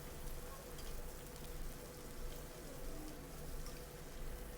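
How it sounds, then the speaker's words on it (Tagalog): Ginger added to a hot pan with onions while cooking pork belly adobo: a steady, dense sizzle and crackle of frying, loud and continuous throughout, with no voices. "Then we can add in the ginger."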